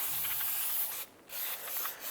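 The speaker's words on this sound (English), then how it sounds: "use a solvent to spray this down, get any of the brake dust knocked down" Solvent sprayed onto the rear brake assembly of a 2011-2019 Ford Fiesta to knock down brake dust: a steady, close hissing spray in two bursts with a short pause between, then a brief break before a final spurt.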